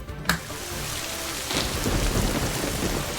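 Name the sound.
thunderstorm with rain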